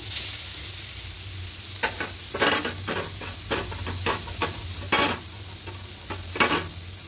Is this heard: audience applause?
no